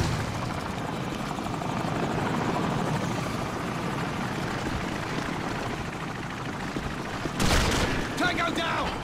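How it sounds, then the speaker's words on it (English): A helicopter's rotor thrum drones continuously alongside game-style effects in Call of Duty 4 multiplayer, with a sharp burst near the end and a voice speaking briefly. "Enemy helicopter inbound."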